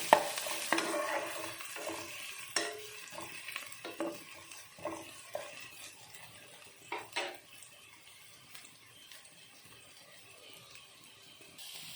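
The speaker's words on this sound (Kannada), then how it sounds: "ಈಗ ಚೆನ್ನಾಗಿ ಎಲ್ಲವನ್ನು ಫ್ರೈ ಮಾಡಿಕೊಳ್ಬೇಕು ಚೆನ್ನಾಗಿ." Sliced onions frying in a pan for noodles, with repeated scraping stir strokes and clinks of a utensil against the pan over a steady sizzle, close and fairly quiet, no talking.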